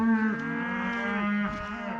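Cattle lowing on a farm after heavy rain, a sustained, fairly close moo with a drawn-out tonal quality that wavers in pitch, heard alone.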